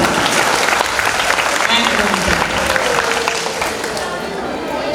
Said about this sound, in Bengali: এই করতালির আওয়াজটা কিন্তু যখনই বলবো জোরে হওয়া চাই।